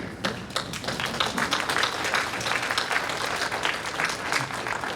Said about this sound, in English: giving everyone in the audience a round of applause for their support that they provided you